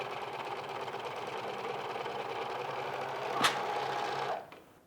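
Close-up whirring of a sewing machine stitching an ironing board cover, a steady mechanical hum that runs continuously for several seconds before stopping abruptly.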